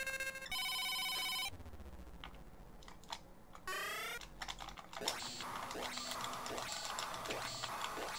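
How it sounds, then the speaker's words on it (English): Electronic telephone-ring beeps from the Astro Wars game on the Super Cassette Vision console, sounding in bursts of bright warbling tones between chiptune blips and effects, fairly loud with no talking. "Alert! Here comes the phone!"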